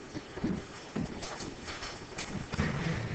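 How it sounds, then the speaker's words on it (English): Horse hooves clip-clop in a few soft, uneven beats, faint and close, with no other sound over them. "Smart horse."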